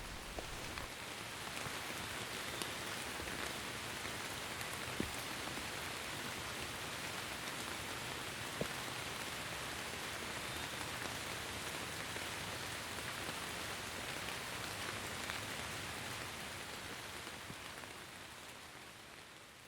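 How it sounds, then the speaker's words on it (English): Heavy downpour in humid weather, a dense, steady hiss of rain hitting surfaces that stays constant and loud throughout, with no voices. "the sky just opened up"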